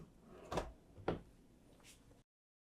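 Kitchen drawers in a 2026 Newmar Bay Star RV slide and shut, two close solid knocks about half a second apart followed by a softer third thud, with no voices.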